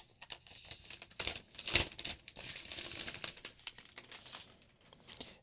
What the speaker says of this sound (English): Now let's take the cover off the keyboard or the wrapper.